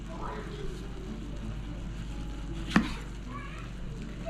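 A knife slicing through a very ripe fruit and striking its pit, one sharp close cut with a brief crack standing out over a steady low background hum.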